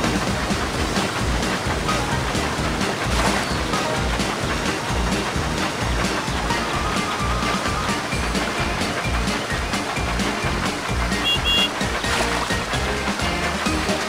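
Steady, loud rushing water from a wild mountain water slide in a Thomas the Tank Engine video game, continuous and dense throughout with no talk.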